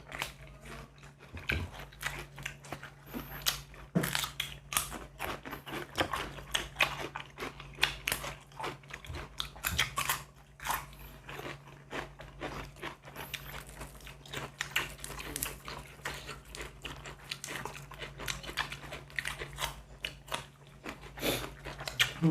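Close, continuous chewing and biting of crunchy raw vegetables eaten with raw beef and liver, a dense run of crisp crunches and wet mastication noises with a steady low hum underneath.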